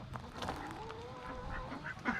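Ducks in a netted enclosure with a small pool, quacking repeatedly in short overlapping calls, fairly faint and slightly distant, with a few louder quacks near the end.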